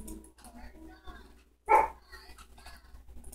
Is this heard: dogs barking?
yes